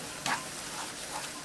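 Enoki mushrooms and egg stir-frying in a pan, a steady bright sizzle with a sharp scrape of a spatula early on and softer stirring strokes after, close and alone.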